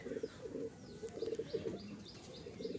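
Rajshahi Giribaz pigeons coo in repeated low, throaty phrases at close range, with a few faint higher chirps scattered over a steady background and no talking.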